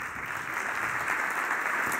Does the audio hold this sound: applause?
yes